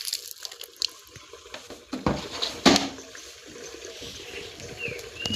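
Water scooped from a bucket and poured while washing a heavy item by hand; faint splashes and trickles come in uneven bursts, with a few sharper pours, nearby and quiet.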